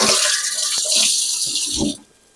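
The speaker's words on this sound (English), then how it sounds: "Let me rinse my hands." Hands rinsed under a running kitchen tap, a loud close rush of water with splashing shifts, cut off abruptly near the end.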